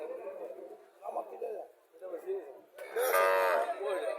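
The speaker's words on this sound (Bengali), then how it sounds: "এটা দেশি গরু" A local-breed cow at a cattle market lets out a long, loud, close moo, preceded by lower lowing and heard alongside people talking nearby.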